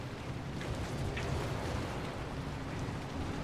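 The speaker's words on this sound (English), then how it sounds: "Okay, it's raining as well." Storm rain in the Pacific Drive video game forms a steady, soft hiss of falling rain with a low rumbling undertone, continuous throughout.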